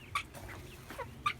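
A large black chicken, nearly full grown, clucks softly in a coop, giving a few short clucks spaced across a quiet moment with low background murmur.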